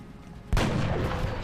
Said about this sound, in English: finish killing it with our Deadeye sniper